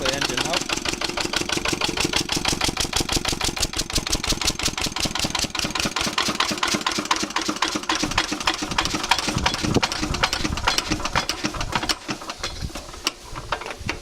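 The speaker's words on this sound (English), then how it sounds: "So I'll stop the engine now." An engine runs steadily with a rapid, even chugging rhythm, then drops off and sputters toward the end as it is shut down.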